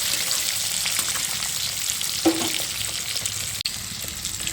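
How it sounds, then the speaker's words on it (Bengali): Continuous hissing sizzle of eggs frying in hot oil, close and steady, with a brief clink partway through. "ডিমগুলো ভেজে একটা প্লেটে তুলে নেবো"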